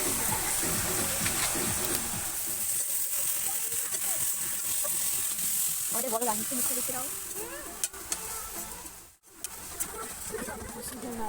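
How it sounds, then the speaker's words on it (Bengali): Hilsa fish heads frying in hot oil in a home kitchen, a continuous hiss and sizzle with occasional stirring and clatter, while birds chirp in the background. "প্রথমে তেল দিয়েছে, তার মধ্যে ইলিশ মাছের মাথা কাটা ওইসব দিয়ে"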